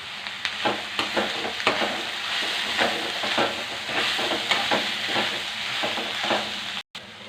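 Curry with tomato and stalks frying in a pan, a close continuous sizzle broken by repeated stirring scrapes at a loose rhythm, ending in a brief drop-out near the end.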